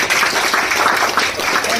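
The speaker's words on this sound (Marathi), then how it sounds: "एकदा जोरदार टाळ्या" Audience clapping at a zonal officers' meeting during a product launch, a dense, loud burst of many hands applauding continuously throughout, close and without pauses.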